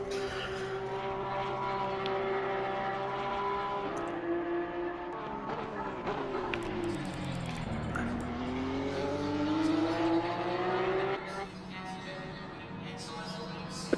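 Race cars in the Assetto Corsa Competizione sim at Circuit of the Americas howl past, engine notes rising and falling through gear changes as one car nears and pulls away, loud and steady.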